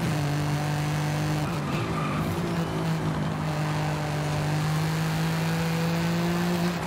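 Toyota Camry V6 race car in Forza Horizon 5, a steady loud engine drone with a brief pitch dip and tire squeal as it brakes, then the engine climbing again, with no talk.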